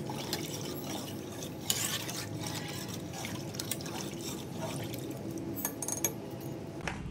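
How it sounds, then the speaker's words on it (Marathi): Mutton being stirred in a pot after water is added, with soft liquid sloshing, scraping and occasional small clinks, fairly quiet and continuous, no voices. "पाणी घातल्यानंतर याला व्यवस्थित हलवून घ्यायचं"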